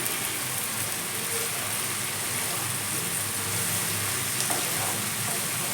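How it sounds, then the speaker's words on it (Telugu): Snake gourd is stirred in a pan with coconut chilli powder, giving a steady, close sizzle with faint scraping and no voices throughout. "దీన్ని బాగా మిక్స్ చేద్దాం."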